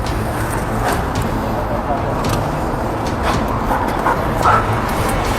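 A Kosovo Police K9 drug-detection dog works around vehicles and a bus at a border check, giving short whimpers and yips amid steady traffic and engine noise, with people talking nearby.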